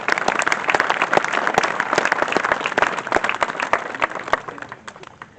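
Dense, sustained crowd applause at a community appreciation event, many hands clapping together at steady volume for several seconds before easing slightly at the end.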